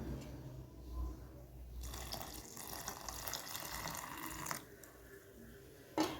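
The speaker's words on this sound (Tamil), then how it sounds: "இப்போ இது கூட தேங்காய் பால் சேர்த்துடலாம்" Coconut milk pours into blended fruit for a summer milkshake, making a soft liquid splashing and trickling that swells for a few seconds and then eases off, faint and close with light kitchen clatter.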